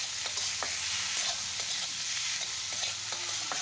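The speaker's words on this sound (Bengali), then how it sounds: "আর এখন আমি আলুগুলো দিয়ে আর একটু ভালোক্ষণ কষিয়ে নেব" Mashed potatoes and meat being stirred and sautéed in a pan for kachori filling, giving a steady low sizzle broken by repeated scraping strokes of a spatula.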